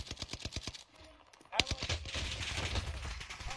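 Automatic gunfire in the game Mighty Army rattles in fast, evenly spaced bursts, loud and close, with a sharp impact near the middle followed by continuous shooting and noise.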